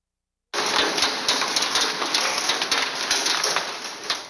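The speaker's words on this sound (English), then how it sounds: "sent us this video of it falling on her backyard furniture" Pea-sized hail rattles onto backyard furniture during a storm in Indian Trail, a dense, rapid patter of sharp ticks and taps that begins abruptly and continues steadily, close and fairly loud.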